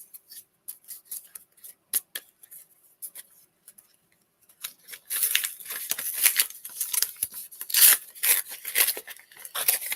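A Pokémon card pack being ripped open close by, first with sparse crinkling and small tearing ticks, then with a louder stretch of sharp tearing and crinkling foil wrapper.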